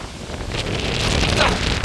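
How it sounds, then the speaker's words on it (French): Strong storm gusts roar across the microphone in a steady, rising rush of broadband noise, with brief exclaiming voices mixed into the blustery wind. "Oh, il y a des rafales!"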